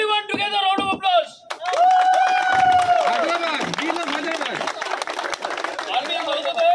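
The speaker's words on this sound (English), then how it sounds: "Everyone together, round of applause." At a cycling event in Hyderabad, a crowd claps and cheers at close range, with an amplified voice talking and shouting over the noise throughout.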